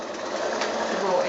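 A sewing machine stitches steadily over the raw edges of fabric, giving a short continuous mechanical whir at moderate volume.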